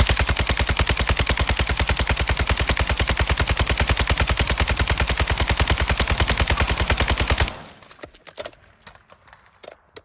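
RPK light machine gun fired in the video game Warzone 2, a loud, rapid, unbroken automatic burst lasting about seven seconds before it cuts off into scattered faint clicks and clinks.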